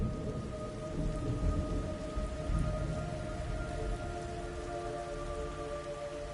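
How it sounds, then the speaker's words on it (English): Steady rain with low rolling thunder in a Metal Gear Solid Delta video game scene, a continuous hiss of downpour under deep rumbles that swell and fade, with faint sustained tones in the background. "It's raining blood."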